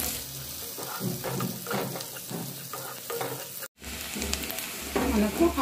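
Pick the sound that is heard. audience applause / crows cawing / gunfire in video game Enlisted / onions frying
onions frying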